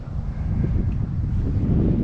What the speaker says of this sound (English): The wind's still windy up on this side.